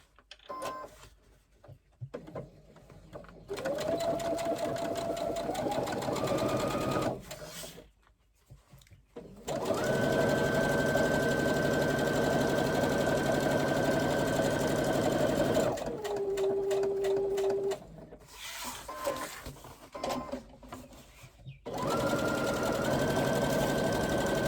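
A sewing machine stitches the edges of a backpack in long steady runs, broken by brief pauses and changes in speed, close and clear.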